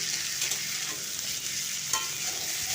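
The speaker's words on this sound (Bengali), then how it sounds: "এরপর আমি তেলের সঙ্গে ভালো করে মিশিয়ে পেঁয়াজগুলো একটু ভাজা হতে দেব" Potatoes and onions sizzle steadily in hot oil nearby, a dense crackling hiss with occasional stirring scrapes and no voices.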